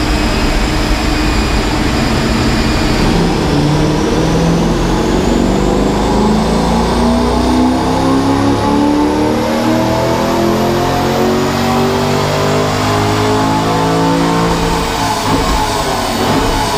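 A Chevrolet Corvette C5 Z06 engine revs hard on a chassis dyno, climbing steadily through a long loud pull with rising pitch and a gear change, roaring close up with no talk.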